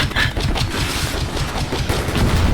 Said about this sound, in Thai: เราจะมาพิสูจน์กันนะว่าปืนกลหนักแบบรัวๆเลยจะจะสู้รถถังได้ไหม